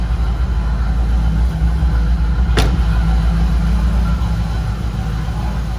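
A 1983 Pontiac Firebird Trans Am idles steadily nearby, its low engine rumble constant throughout, with one brief click partway through.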